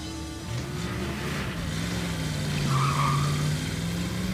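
A Dodge Utiline farm truck launches off the line with a rising engine note and a brief tire squeal partway through, heard close and loud.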